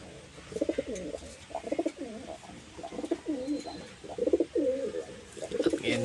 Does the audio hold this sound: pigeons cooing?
yes